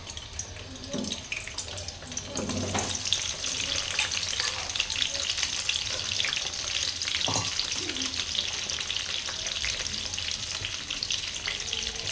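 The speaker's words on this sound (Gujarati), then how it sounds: "તેલ થઈ ગયું છે પછી આપણે એમાં ડુંગળી નાખીશું" Onion frying in hot oil in a home kitchen, a steady, dense sizzle and crackle that runs throughout at moderate loudness, with faint stirring clatter now and then.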